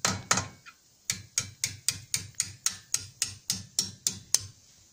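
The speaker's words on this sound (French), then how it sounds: "Avec le tournevis pour retirer la goupille et un marteau, il n'y a pas besoin de taper fort." Steady, evenly spaced metallic hammer taps drive a brake pad retaining pin out of a Porsche brake caliper with a screwdriver, about a dozen light strikes after a few irregular ones, close and crisp.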